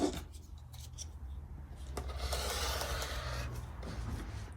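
Scissors cutting vintage linen fabric for a quilt, producing faint, close, crisp snipping and rasping strokes with soft rustling of the cloth between cuts, without talk.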